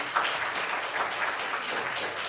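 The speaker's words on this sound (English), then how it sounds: "give God a hand clap of praise." A church congregation gives a hand clap of praise, many hands clapping together in a continuous, moderately loud patter that fills the room for a couple of seconds.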